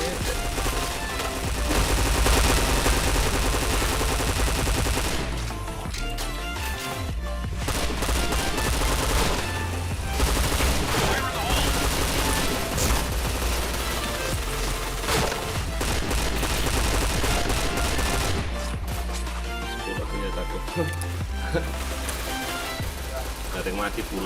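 Rapid automatic gunfire and bursts of shots from a first-person shooter video game, loud and nearly continuous throughout, with a voice talking over the shooting.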